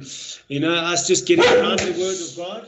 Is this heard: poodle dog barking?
yes